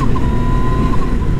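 A 2017 Yamaha FZ/MT-09 motorcycle engine pulling hard, a loud, steady roar with a sustained tone, close and continuous throughout.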